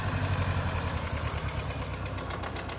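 A Massey Ferguson 132 tractor engine revved to about 2,500 RPM, a steady rough mid-pitched diesel drone with rapid firing pulses, fairly close and continuous, no talk.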